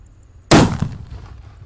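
A single sharp Banaspati firecracker bang bursts out after a brief quiet, loud and close, then a short crackling tail fades away.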